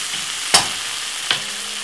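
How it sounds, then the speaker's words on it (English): Food fries in a pot, a steady soft sizzle with two sharp clinks or stirring taps standing out over the hiss. "So now this is fried off."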